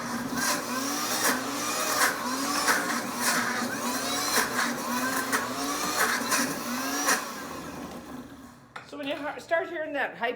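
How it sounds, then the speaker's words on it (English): A blender grinds nut butter with a loud, steady whirring roar and repeated rising surges as the blade spins, then cuts off, with voices talking over the motor near the end. "Start hearing that high-pitched kind of thing, you know your blade is spinning, there's nothing in your blade"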